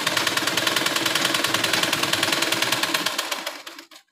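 A sewing machine stitching the side seams of a blouse runs in a fast, even mechanical chatter at close range, then slows and stops near the end.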